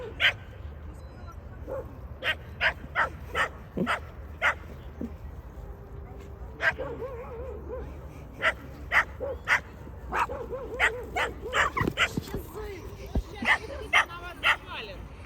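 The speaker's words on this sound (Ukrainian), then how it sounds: "у нас собачки грають. Такі маленькі. Бігають один за одним." Two small dogs yipping and barking in quick bursts while chasing each other at an evening café in Sumy, Ukraine, with whimpers between, fairly close, and people chatting quietly in the background.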